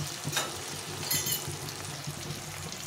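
Potol curry with tomato paste sautéing in a pan, a soft steady sizzle with occasional scraping stirs and small splutters, low and close.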